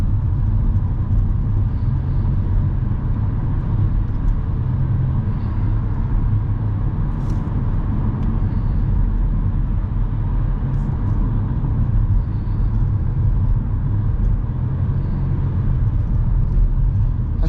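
Car cruising along a highway at night, a steady low road rumble and engine drone heard from inside the cabin, continuous and even, with no talk.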